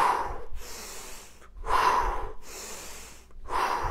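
Deep, heavy breaths during Indian squats in a home workout, alternating long exhales and inhales in a steady rhythm of about four strong, close breaths with short pauses between them.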